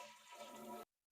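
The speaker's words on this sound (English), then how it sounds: "give it a flush" A brief toilet flush gushes steadily at close range, then cuts off abruptly into silence during a repair of rusted tank mounting bolts.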